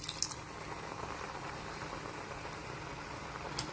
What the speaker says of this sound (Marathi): त्याला असं उकळू द्यायचं.